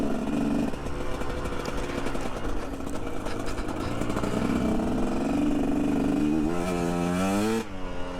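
A 2021.5 GPX Moto TSE250R motorcycle engine lugging at low revs while riding, a steady close drone with a rising pitch sweep before it cuts off near the end.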